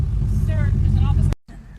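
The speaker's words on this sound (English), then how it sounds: "All because my car's loud." A loud car engine rumbles close by for over a second, with voices in the background, before cutting off abruptly and returning more quietly.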